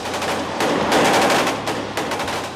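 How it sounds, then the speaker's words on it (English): Sustained machine gun fire in Vietnam War combat, loud and continuous bursts of rapid shots with brief gaps, no voices. "All 4 members of the fire team are mowed down by the machine gun."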